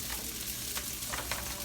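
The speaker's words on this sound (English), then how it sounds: "You hear that sizzle? That's what you want to hear." Steady, dense sizzling crackles from cold rice added to a hot pot for fried rice, continuous and close, with faint stirring scrapes and no voices.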